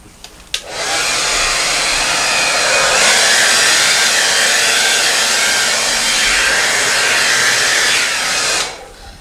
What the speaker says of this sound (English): I'm going to make some noise with my blow dryer.